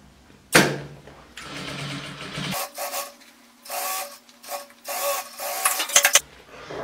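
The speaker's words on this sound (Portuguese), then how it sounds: "ponho aqui em cima e vou passar uma costurinha em toda a volta" A sewing machine stitches around a fabric makeup bag in several short bursts of whirring, with pauses and handling noises between runs; nothing is spoken.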